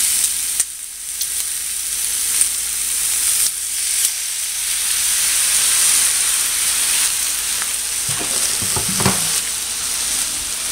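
Spareribs browning in an oiled pan with sugar and vinegar sizzle and hiss steadily and loudly, with brief bursts of stirring and spattering near the end.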